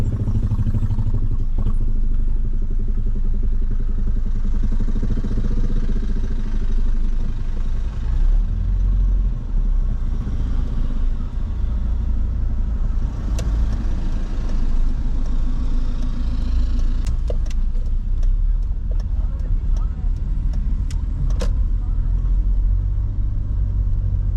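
Engines idle and rumble in heavy, stop-and-go traffic near the Phu Thap Boek viewpoint, a constant low drone heard from inside a vehicle, with occasional faint clicks and clatters and no talking.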